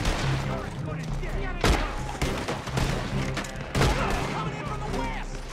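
Rapid video game gunfire landing headshots, with several sharp, punchy shots and bursts over a steady background bed while a person talks.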